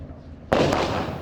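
Diwali firecracker set off at an office in Chennai, one sharp loud bang followed by a crackling, hissing burst, close by.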